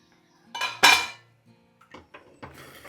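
A metal lid clatters onto a pan of egg burji, two sharp clanks close together followed by a few lighter metallic taps and scrapes in an otherwise quiet kitchen.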